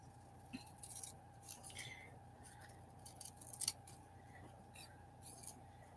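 Scissors snipping a letter out of glossy magazine paper, a few faint, quiet cuts and paper rustles scattered through a soft, low room background.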